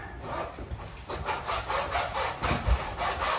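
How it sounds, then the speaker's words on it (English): A hacksaw cuts into pallet wood, working through toward a nail in the gap between boards. The close, rhythmic back-and-forth rasping strokes come quickly and evenly, with no talk. "you get your hacksaw. You can just get it in between that space."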